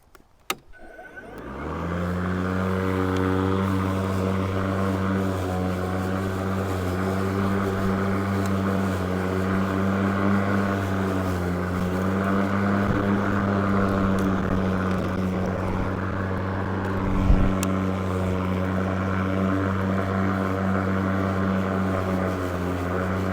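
An Ego commercial battery lawn mower whirs up to a steady, loud, even hum and keeps running, with a brief surge near the end.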